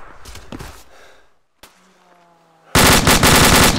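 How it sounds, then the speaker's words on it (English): Machine gun fire in the video game Arma 2 bursts in loud and close near the end, following quieter rumbling shots and a sharp single crack earlier, with no speech. "Enemy fire!"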